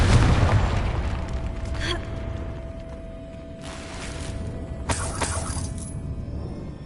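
Confringo blasting spell in Hogwarts Legacy, opening with a loud close explosion, then crackling debris and a long decaying roar, with a second sharp shattering burst a few seconds later.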